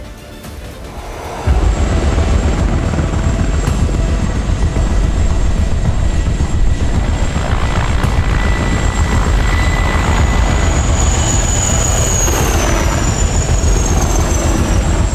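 An Apache attack helicopter flying, a loud, steady roaring engine and rotor drone that starts abruptly and holds without a break, with no one speaking.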